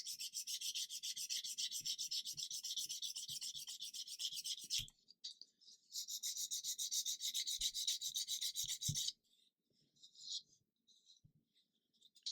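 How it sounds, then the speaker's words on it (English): Fine 800-grit sanding pad rubbed by hand over a 1/35 scale plastic model fire truck, a close, steady high rasping scrape in two long passes with a short gap between, then a few lighter strokes alone. "I'm going to use an 800 grit sanding pad and just take that back"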